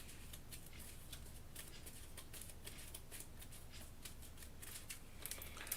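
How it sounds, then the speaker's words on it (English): A deck of game cards for the board game Kingdom Death: Monster being shuffled, a quiet continuous papery riffling and rustling with soft flicks, steady throughout and heard alone at low level. "Shuffle these up."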